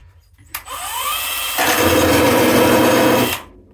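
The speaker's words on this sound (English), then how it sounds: "It's a finger sander." A small handheld finger sander buzzes on broken pieces, starting with a rising whine near the start, then settling into a loud, steady grinding drone for about two seconds before cutting off.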